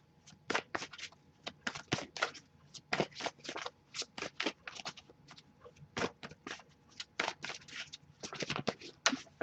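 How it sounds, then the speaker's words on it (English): Tarot cards are shuffled in quick, repeated riffling bursts, close and fairly quiet, with short pauses between handfuls. "I'll shuffle a little bit longer, see if we get anything."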